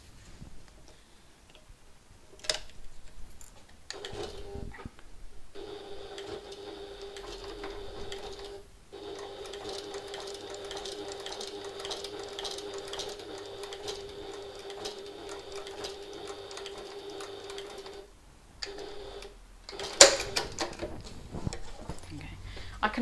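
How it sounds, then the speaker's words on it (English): Sewing machine stitching the right side of a handbag strap, a steady mechanical run lasting several seconds with brief pauses and clicks, fairly quiet and close. "I'm sewing on the right side of the strap"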